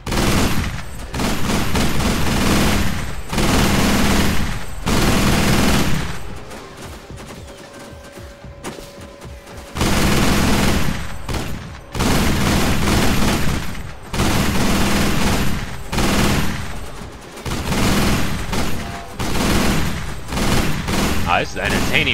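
Long bursts of loud automatic gunfire in the shooter game Sniper Ghost Warrior, sustained for several seconds at a time, with a quieter gap in the middle before the shooting resumes in heavy, repeated volleys.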